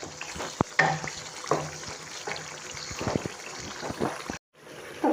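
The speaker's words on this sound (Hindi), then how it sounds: "अब इस दही को अच्छी तरह से मिक्स करेंगे और इसको पकाएंगे" Yogurt masala for chicken biryani stirred and cooked in a pan: a soft, steady sizzle broken by irregular spoon scrapes and knocks, with a brief drop to near silence toward the end.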